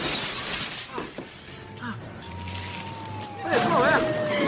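A glass window shatters as a man is thrown through it: a bright crash and scattering shards, with wavering siren-like tones and shouting voices around it.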